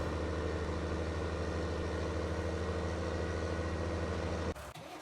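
Tractor engine idling in the video game Farming Simulator 19, a steady low droning hum with even harmonic tones, close and constant until it cuts off abruptly near the end.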